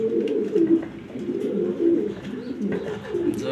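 Pigeons, including a big female, coo in repeated low rolling phrases close by, a steady murmur of several birds with faint background noise and no talking.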